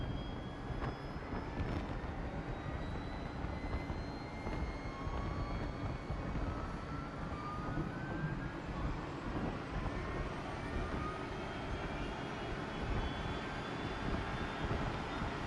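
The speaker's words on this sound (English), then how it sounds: "The Leap engine sound the best at startup." A LEAP engine spools up on a Toliss A320neo in the X-Plane 12 flight simulator, giving a continuous loud roar with rising whine tones that climb steadily throughout.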